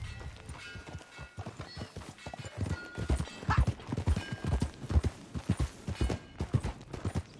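Hooves of a ridden horse in Red Dead Redemption 2 pound out a rhythmic galloping clip-clop that builds from lighter footfalls into heavy, close, driving beats, with a snort or whinny.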